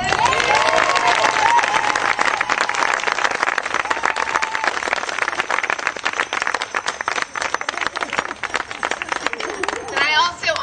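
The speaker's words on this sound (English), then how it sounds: "let's all give her a round of applause" An audience at a celebrant graduation ceremony in New Jersey applauds with dense, sustained clapping. The applause stays loud and even for about ten seconds, then thins slightly toward the end.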